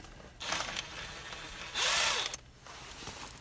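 A power tool whirs in two bursts, removing the front brake caliper bolts on a Hyundai iLoad van; the second burst is louder and steadier, with quiet pauses between.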